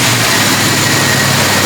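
An old Jeep engine, restarted after sitting unused for 25 years, idles loudly and steadily, a rough, low rumbling drone with no voices over it.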